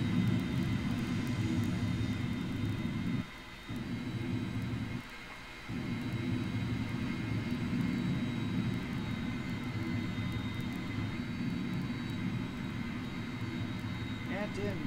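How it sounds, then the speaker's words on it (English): A steady droning Fokker 100 airplane engine roar in a video game fills the clip, dipping briefly twice before resuming its constant hum. "Doing mega-sized donuts in the big-ass plane."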